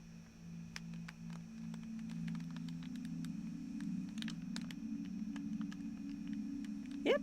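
Faint, steady low synth notes drone from a homemade PS3 synth, held tones shifting pitch slightly, with scattered quiet clicks of keys over them.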